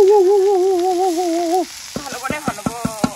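Banana flower frying in hot oil in an Assamese village kitchen, a steady sizzling hiss running throughout, first under a sustained wavering tone and then beneath a string of short voice-like sounds.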